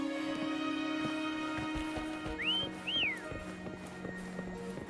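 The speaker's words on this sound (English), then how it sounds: "Why don't you call Foam over? Try whistling." Two short rising and falling whistles call the horse Foam in Wuthering Waves, clear and fairly close, over steady background music and soft hoofbeats.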